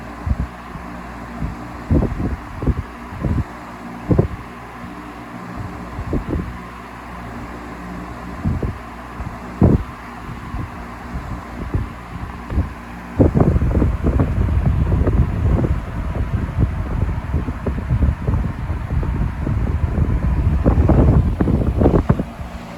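A Lasko 18-inch high velocity fan, model 2518QM, runs on medium speed indoors, its gusty airflow buffeting close to the mic in irregular bursts that thicken into a steady rushing roar over the second half.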